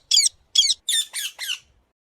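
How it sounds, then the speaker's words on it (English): A parrot gives five short, harsh squawks in a quick uneven series, close and loud with brief gaps between calls. "Parrot,"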